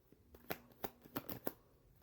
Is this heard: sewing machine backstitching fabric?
no